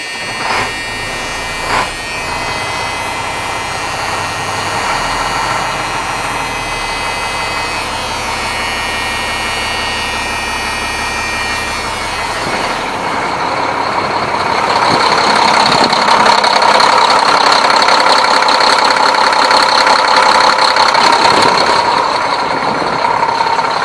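Mack Superliner 550 hp all-mechanical diesel truck engine on a cold day: a low idle rumble, then a louder, rising clattering run with a strong whine, droning on steadily.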